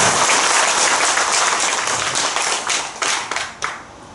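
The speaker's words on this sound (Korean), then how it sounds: "박수 한번 주세요" An audience at a Buddhist Sunday dharma talk breaks into loud, dense applause that thins into scattered claps near the end.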